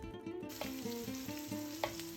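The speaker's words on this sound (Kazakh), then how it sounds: "Әдеттегідей бірінші майымызды қыздырып, пиязымызды қуырып аламыз." Onions fry in heated oil with a steady, close crackling sizzle and some stirring, heard without any talk.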